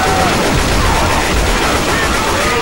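Rapid bursts of gunfire from Left 4 Dead 2 crackle densely and loudly, a continuous volley of shots with a processed, game-like quality and no voices.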